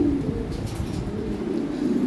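Yellow Lahori pigeons cooing among a large collection of birds, a low, soft, continuous throaty murmur close by with no pauses.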